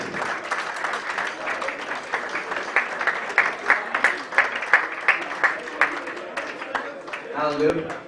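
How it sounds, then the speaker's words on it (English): A crowd claps for the winner of an amateur novice boxing bout at a sporting club, with fairly close, rhythmic claps that swell in the middle, and an announcer's voice over the tail end. "Round of applause, please."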